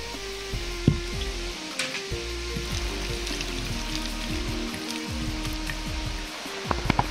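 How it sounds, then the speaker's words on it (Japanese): Beef coated in egg and potato starch fries in a pan, a steady soft sizzle with scattered light pops and crackles under a low background hum. "片栗粉を大さじ1くらい入れまぶして焼きます"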